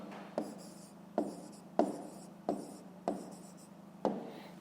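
Pen scratching out an answer in a notebook for a fifth-grade maths exercise: six separate strokes or words at regular intervals, each a short scratchy burst fading out, close and quiet.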